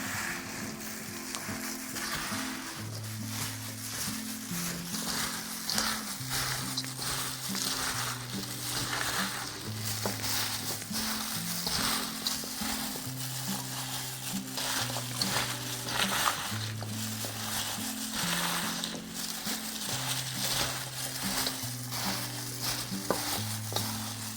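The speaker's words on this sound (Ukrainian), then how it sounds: "Тепер нам овочі потрібно вимішати всі гарненько зі спеціями" Sliced cucumbers tossed with spices for a Korean-style salad, steady wet stirring and squelching alongside a repeating low-pitched tonal pattern, with no talk.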